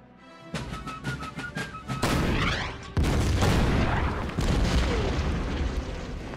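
Enemy gunfire and explosions ring out in a war-game battle scene: scattered shots and tonal effects give way to heavy booming blasts and a rolling, continuous roar of fire that stays loud to the end.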